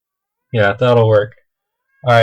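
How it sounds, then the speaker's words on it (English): A house cat meows in the background during casual speech, with drawn-out vocal calls that overlap a person talking nearby. "I don't know if you can hear my cat in the background"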